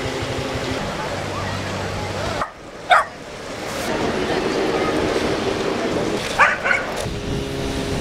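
Dogs bark at a dog beach in Tel Aviv, a few short distant yips and barks standing out against a steady outdoor wash of wind and surf.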